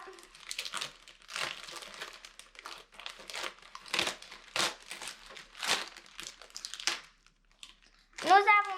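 Plastic colour packets from a bath bomb making kit being torn and opened, close crinkling bursts repeated in an irregular rhythm, ending with a high squeak.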